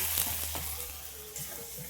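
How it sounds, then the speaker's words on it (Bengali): Water is poured into a pan of frying pointed gourd and prawn curry, producing a short, steady close hiss and sizzle. "এবার আমি জল দিয়ে দেবো"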